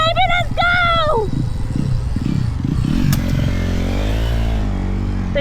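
A Honda dirt bike and a Stark Varg electric motorcycle ride off, with an engine revving and rising in pitch over clattering and scraping, loud and close, while people talk and shout over it.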